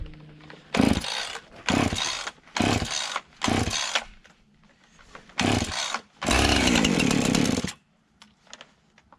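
A chainsaw engine is pulled and sputters to life in several short bursts, then catches and roars steadily for over a second before cutting out, loud and close.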